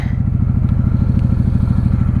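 A 1995 Honda Shadow VLX 600 (VT600CD) V-twin motorcycle running on the road, its steady, loud, pulsing low exhaust throb filling the whole stretch with no talk.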